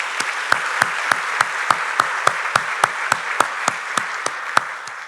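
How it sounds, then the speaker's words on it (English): An audience applauds at a county's 2024 State of the County address, a steady hiss of clapping with sharp, evenly spaced claps standing out in a regular rhythm for about five seconds. "Let's give them another round of applause"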